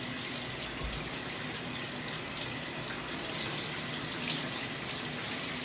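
Hot water running steadily from a tap while hair is washed, a close, even rush with no pauses.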